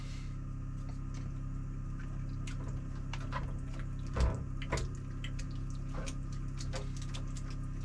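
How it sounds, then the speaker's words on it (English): Water heating toward a boil in a pot at a lakeside campsite gives a soft, irregular ticking and bubbling over a steady low hum, close and fairly faint. "Water's getting close to a boil."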